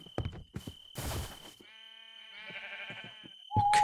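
Sheep in a video game bleat in a few wavering calls mixed with clicks and thuds, with a steady synthetic tone running underneath.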